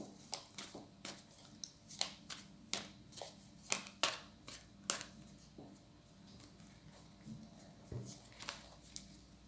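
Tarot cards laid out one by one on a table, a series of soft, crisp slaps and shuffles in an uneven rhythm, close and quiet with no talking.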